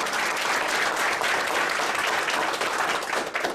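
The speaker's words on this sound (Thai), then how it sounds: "Give a round of applause for all of you." Dense, sustained applause from a large audience at a seminar hall, loud and continuous for a few seconds with no speech over it.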